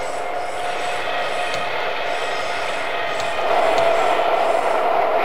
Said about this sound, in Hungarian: az orosz metrók elég hangosak voltak még